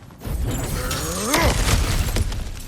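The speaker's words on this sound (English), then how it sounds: "Ah, back to smashing through things for fun and profit." Objects smash apart in God of War Ragnarok: a loud, dense crash of breaking debris that swells and rumbles for a couple of seconds, close and forceful.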